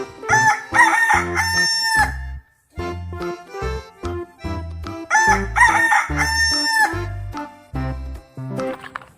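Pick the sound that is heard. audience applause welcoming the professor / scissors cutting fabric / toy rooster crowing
toy rooster crowing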